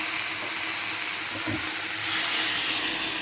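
Spices sizzle steadily in hot oil in a pan for a tilapia fish curry with potatoes and beans, a constant close hiss that briefly swells louder near the end.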